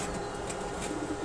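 Soft, low cooing from racer pigeons kept in a loft, close and brief amid faint background noise, with no talking.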